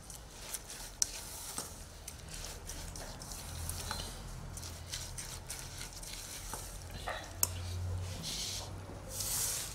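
A butter mixture with 100 g of feuilletine being stirred in a pan, a quiet steady scraping and light sizzling with occasional sharp clicks of the utensil against the pan, close up with no talk.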